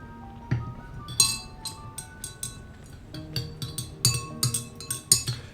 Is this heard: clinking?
yes